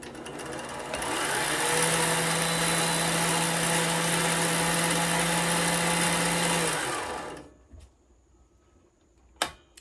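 A Rex 607z industrial sewing machine winds a bobbin with a loud, steady high-pitched motor whir and hum that runs several seconds, then cuts off, leaving quiet with a few small clicks.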